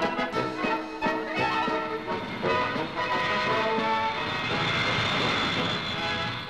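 An aircraft flying low over a house, its engine drone swelling loud and rough as it passes close overhead, with a steady roar and shifting tones and no talk.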